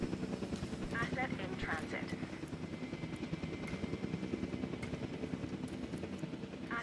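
A helicopter in the dinosaur park game Jurassic World Evolution 2 makes a steady rapid rotor chop with engine whine, continuous and moderately loud, while someone talks over it.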